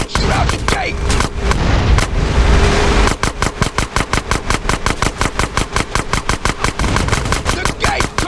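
A burst of gunfire in GTA San Andreas aimed at a sewer gate: dense overlapping shots and booms at first, then a loud, rapid, evenly spaced string of automatic fire running to the end.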